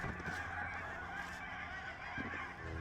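A flock of geese honking repeatedly and fairly close at an outdoor disc golf course, a steady overlapping chorus of calls with no talking.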